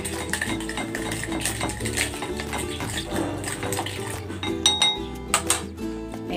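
A spoon stirring shrimp with calamansi and chili in a metal pan, with steady clinks and scrapes against the cookware, continuous and close, growing sharper toward the end.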